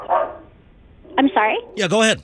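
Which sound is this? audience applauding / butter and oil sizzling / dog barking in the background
dog barking in the background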